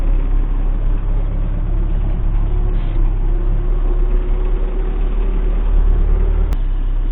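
A farm tractor, just back from repair and out sowing spring barley, drives off with a steady, loud, close diesel drone that holds an even low rumble throughout.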